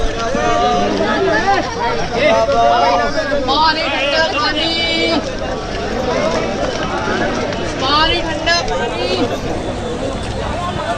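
A dense, loud crowd fills a busy Mumbai train station with overlapping voices, shouts and the scuffle of hurrying footsteps, continuous throughout.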